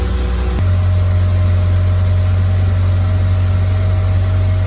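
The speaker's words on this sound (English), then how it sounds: "it's idling high because I didn't hook up my idle air control" A Toyota TE72 Corolla engine idles steadily at a raised, constant pitch with the idle air control disconnected, a continuous low hum with no revving, close by and alone.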